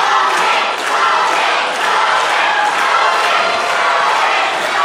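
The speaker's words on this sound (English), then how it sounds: "This Madisonville crowd rallying behind Logan Abell." A loud crowd at a live wrestling event in Madisonville cheers and rallies behind a wrestler, a dense sustained roar with shouts and occasional thuds throughout.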